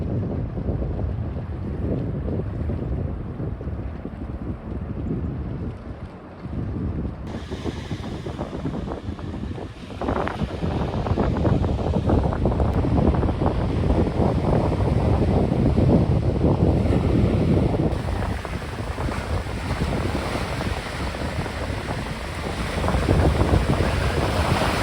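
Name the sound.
choppy sea waves and wind at Ilha Deserta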